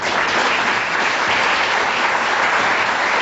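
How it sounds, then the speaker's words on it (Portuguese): A church congregation at an evangelical deliverance service claps continuously and loudly, a dense wash of hand claps filling the room without pause. "Aplauda o Senhor Jesus"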